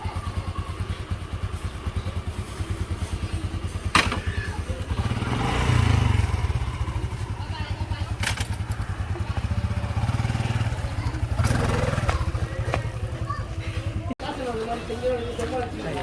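A motorcycle engine idles and revs steadily nearby, with people talking and occasional clatter over the engine drone.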